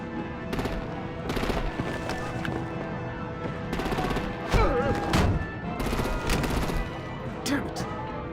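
Bursts of rapid gunfire in Batman: The Enemy Within, loud and repeated in short volleys, mixed with game music and effects, with voices speaking between the shots.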